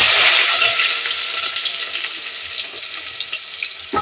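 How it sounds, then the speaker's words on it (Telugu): Two medium red onions, sliced long and thin, hit hot oil for chicken saarva and fry with a loud, steady sizzle that eases slightly as it settles, with no voices over it. "ఆయిల్ వేడెక్కాక 2 మీడియం సైజ్ ఎర్రగడ్డలండి పొడుగ్గా సన్నగా తరిగి పెట్టుకొని ఇందులో వేసుకుంటున్నాను."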